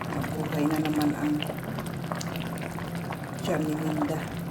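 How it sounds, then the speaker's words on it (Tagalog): Shrimp sinigang soup with plenty of vegetables boiling in a pot, giving a steady, close bubbling hiss that continues throughout with faint voices in the background. "Kumukulo."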